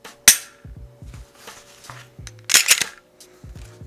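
A Glock 19 fitted with a Fowler Industries Zero trigger makes sharp, close clicks as it breaks and resets, several crisp snaps scattered over a few seconds alongside softer mechanical handling noise.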